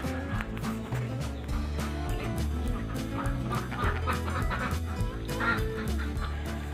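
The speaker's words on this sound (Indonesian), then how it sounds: "malam hari bebek itu selalu berisik tanpa ada gangguan" Egg-laying ducks clamoring at night in their pen, a dense, continuous chorus of overlapping honking quacks at steady loudness.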